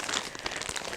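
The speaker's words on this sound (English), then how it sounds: "Comes in just a plastic bag" Plastic crinkles and rustles in quick, irregular bursts up close, as if a bag is being handled.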